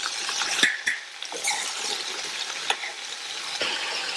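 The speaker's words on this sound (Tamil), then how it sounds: "இந்த காயை 2ல இருந்து 3 நிமிஷத்துக்கு எண்ணெயிலேயே வதக்கி விட்டுக்கங்க." Pumpkin pieces sautéing in oil in a pan for a vegetable stir-fry, giving a steady crackling sizzle with scattered sharp clicks and scrapes from stirring, close and fairly loud with no talking.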